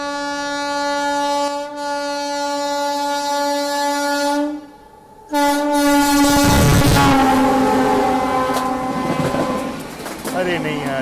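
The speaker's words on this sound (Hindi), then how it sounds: "ये तो उड़ना स्पेशल है। ये बड़ी फास्ट निकली।" An Udhna special express train rushes past, opening with a loud sustained multi-tone horn, a brief dip, then a roaring surge of wheel and carriage noise that fades slightly as it continues.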